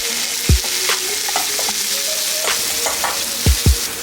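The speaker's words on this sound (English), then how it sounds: "Say hello to caramelized onions." Onions fry and caramelize in the juices left by turkey burgers, making a loud, dense, continuous sizzle up close, with a few low thumps and light scrapes from a spatula and no talking.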